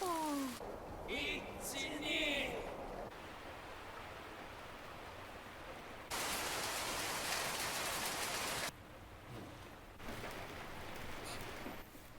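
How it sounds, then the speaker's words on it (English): Rain falling outside against glass windows in an anime episode, a dense steady hiss of raindrops that shifts in loudness between scenes, with voices speaking over it at times. "I love this aesthetic when it's like raining outside, like on glass windows and stuff."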